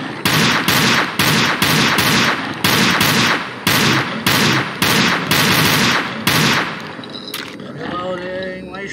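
Loud rapid bursts of automatic gunfire from a video game, a dozen or so close clattering volleys in quick succession, then a quieter tail with shuffling and faint voice.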